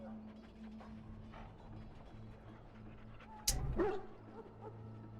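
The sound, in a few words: Mabari war hound barking in video game Dragon Age: Origins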